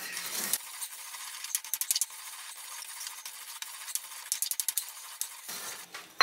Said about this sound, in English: I like to grind it up fairly fine, but not too fine